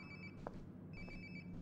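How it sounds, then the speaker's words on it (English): A phone rings nearby in the video game Life Is Strange: Before the Storm, two faint electronic trilling bursts separated by a short gap, with a soft thump between them. "Sounds like my phone is definitely nearby."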